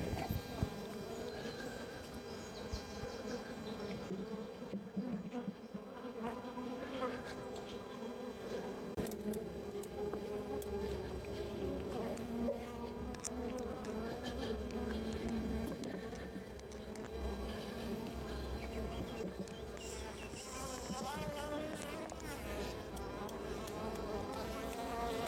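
A defensive honeybee colony swarms around its hive, a dense, steady buzzing of many bees close by with individual insects droning past, sustained throughout.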